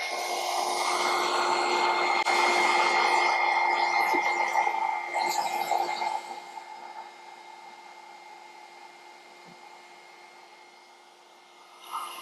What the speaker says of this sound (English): let's get the heat gun out.